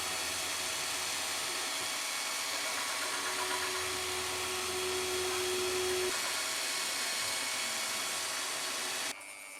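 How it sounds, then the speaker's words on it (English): A high-speed rotary tool grinds into wood with a loud, steady whirring drone that holds for about nine seconds, then drops away sharply near the end. "It doesn't kick around as much when using a high-speed rotary tool instead of the screwdriver, but it's eating up the wood."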